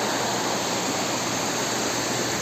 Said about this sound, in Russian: вот горная река